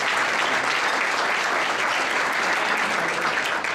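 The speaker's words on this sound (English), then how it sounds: "Coach Sorgiano, give a round of applause." An audience at a high school varsity football banquet applauds a coach, a dense and steady burst of clapping throughout, loud and close.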